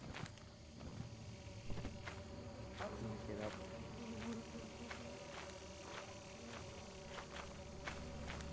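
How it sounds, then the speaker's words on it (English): Bees buzzing at a beehive in the video game Lethal Company, a steady low insect drone under faint footsteps and scattered clicks, fairly quiet throughout. "Oh, and there's a beehive."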